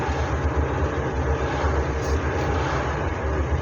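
A Hillman Super Minx car engine runs smoothly after its ignition timing has been set, giving a steady, even drone that holds at a constant level from start to finish without any speech.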